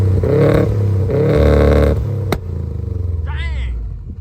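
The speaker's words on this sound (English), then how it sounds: "we all want to hear this start up, some revs, and go for a drive" Subaru WRX STI Type RA engine heard close and loud, its idle rumble swelling through two rev blips before a sharp click and a lower, steady idle, with a brief voice near the end.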